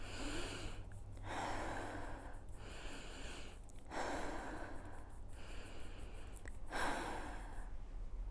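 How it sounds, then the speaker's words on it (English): Three slow, deep breaths in and out, each inhale and exhale a long soft airy rush with brief pauses between, close and fairly quiet over a low steady hum. "Whilst doing this, take 3 breaths in and out."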